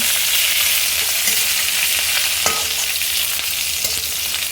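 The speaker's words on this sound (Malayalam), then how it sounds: "കുറച്ച് കരിവേപ്പില ഇടാം. ഇതുപോലെ കൂടെ വറവായിക്കോട്ടെ." Curry leaves fry in hot oil with green chilies in a pan for a Kerala-style inji puli, giving a steady, bright sizzle with a few soft stirring scrapes and no voices.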